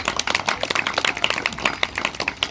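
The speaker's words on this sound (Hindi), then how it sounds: "इसलिए आप पत्रकारों के लिए भी तालियां बजा दीजिए" An audience at a yoga day gathering applauds, a scattered, moderately loud patter of hand claps that carries on steadily for a couple of seconds.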